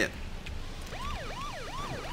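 A vehicle siren in the video game Miscreated wails in rising and falling sweeps, starting about a second in and repeating three times at moderate loudness over low engine rumble.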